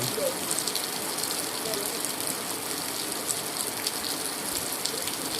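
Steady rain pours down, a dense even hiss of drops hitting surfaces, continuous and fairly close throughout.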